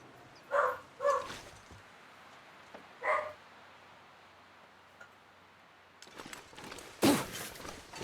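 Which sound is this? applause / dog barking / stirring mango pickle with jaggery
dog barking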